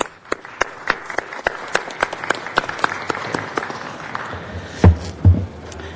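Crespi Carmelite High School students and alumni in an audience are applauded, starting with a few distinct sharp claps in a loose rhythm that thicken into fuller applause, with two heavy low thuds near the end.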